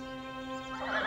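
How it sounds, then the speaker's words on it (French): A horse rearing lets out a rising whinny that swells toward the end of the short moment, heard over a steady tonal background hum, no talking. "je fais cabrer le cheval et je repars au galop vers la plaine"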